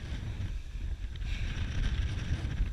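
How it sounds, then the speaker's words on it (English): Strong wind of about 25 miles an hour buffets an open fishing boat on a lake during a stormy bass outing, producing a steady, dense low roar of gusts hitting the microphone with no voices. "It's like 25-mile-an-hour winds right now."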